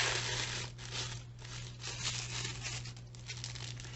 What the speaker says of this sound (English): here is the tissue. I'm just going to tear it just like that